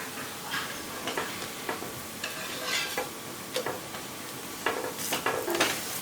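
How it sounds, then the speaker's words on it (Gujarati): Masala bhakhari roasting in ghee on a pan gives a steady soft sizzle, broken by light scraping and tapping strokes as it is pressed and turned. No voices are heard. "ઘી લગાવાઈ જાય એટલે આપણે ભાખરીને બદામી રંગ સુધીની શેકવાની છે"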